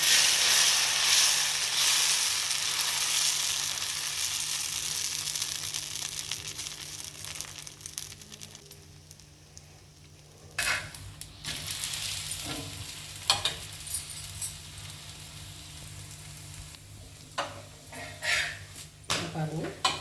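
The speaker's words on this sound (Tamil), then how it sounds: "ஒரு தோசை ஊற்றி" Pesarattu, a green gram dosa batter, is poured onto a hot pan and spread out. A loud, close hiss of sizzling fades slowly, then scraping and clattering bursts follow.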